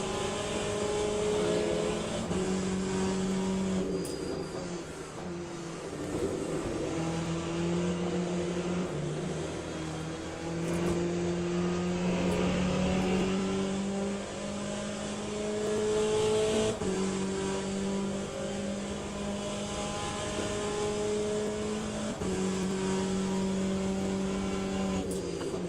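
Hypercars in the racing game Le Mans Ultimate roar past in a continuous wave, layered engine notes rising and falling in pitch as several cars sweep by close and loud, with no talking.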